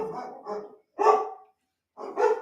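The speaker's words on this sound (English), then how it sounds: "So my dog's going crazy for some reason." A dog barks in three loud, close bursts, each a cluster of rough barks separated by short silences, with no talk over it.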